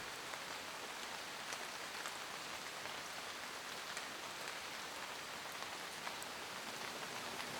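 Steady rain hisses evenly on surfaces at Mirror Lakes, New Zealand, beside a highway, with faint scattered drips standing out, continuous and moderately quiet, with no voices.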